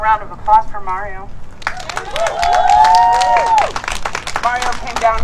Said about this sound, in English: another round of applause for Mario